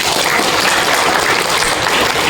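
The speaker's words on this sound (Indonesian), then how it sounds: "Tepuk tangan dong." A seminar audience bursts into dense, loud applause, a continuous wash of many hands clapping together with no voices standing out.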